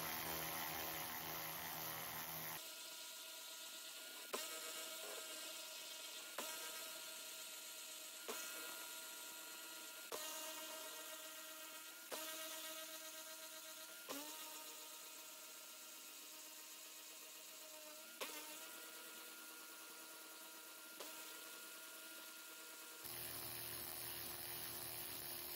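Cordless ratchet, a cheap Temu or Lidl model, spinning nuts loose in a steady whirring buzz, broken by about nine short bursts as each nut is backed off, with a harsher tool sound at the start and end.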